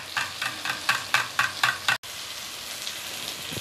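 Eggs, milk and ground cinnamon whisked for bread pudding, a quick regular series of about eight sloshing, clicking beats close up, then a softer continuous swishing after a brief cut, with no talking.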